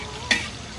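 Food frying in a pan over an outdoor cooking setup at a nature park, a steady low sizzle with two brief louder stirring bursts, close by and without talk.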